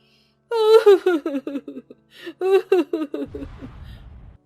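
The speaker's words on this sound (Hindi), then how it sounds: "उन्हें एक औरत की जोर जोर से रोने की आवाज आई" A cartoon woman cries loudly, wailing sobs rising and falling in two long broken bursts, close and clear, ending in a rumbling sound effect.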